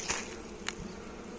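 Honey bees buzz faintly around hive frames in a bottom box, a soft, low hum with a couple of brief louder passes, and no talking.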